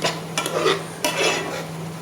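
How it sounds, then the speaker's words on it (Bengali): Masoor dal being stirred and mashed in a pot, with a few soft scraping strokes of a utensil against the pot over a low steady hum, no talking. "ডালটা একটু নরম করে দিতেছি, নরম করে নিচ্ছি।"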